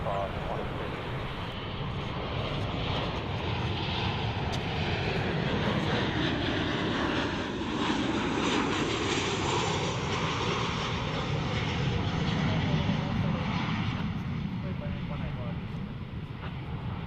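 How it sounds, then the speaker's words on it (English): An Alaska Airlines jet airliner from Seattle arrives at DFW International Airport with a loud, sustained roar of jet engines that swells and shifts in pitch as it passes. People talk over the noise. "Next arrival, Alaska 414 from Seattle."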